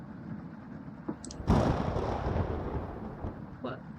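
A thunderclap from a lightning storm in the game Cooking Companions, a sudden deep rumbling boom that rolls on and fades over a few seconds, with faint speech nearby.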